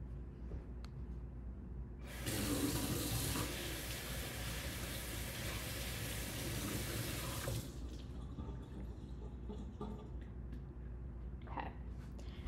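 Water from a running kitchen tap gushes over radishes being rinsed, a steady hiss lasting about five seconds and then cutting off, leaving quiet kitchen ambience.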